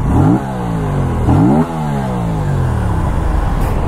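An Aprilia RS 457 motorcycle engine revs up twice in quick blips, each rising sharply then dropping back to a steady idle, loud and close with no talking.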